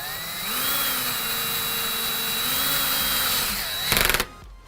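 A power drill drives wall anchors to mount a hanger bracket for a console unit, its close, steady motor whine shifting in pitch before ending in a short rattling burst.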